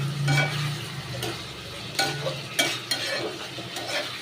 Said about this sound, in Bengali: মাংস সেদ্ধ হচ্ছে, এই যে গরম করছি